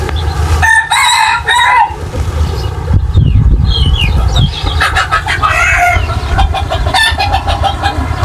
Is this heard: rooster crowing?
yes